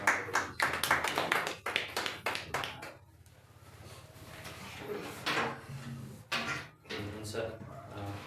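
Congregation applause during a Saturday church service: a crowd clapping in dense bursts, strongest at the start, mixed with talking and hall noise, then more scattered claps further on.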